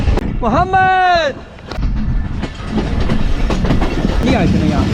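Awam Express passenger train rumbling along the rails from Taxila to Gujar Khan, heard up close with a loud continuous clatter and a rising then falling whistle-like squeal near the start.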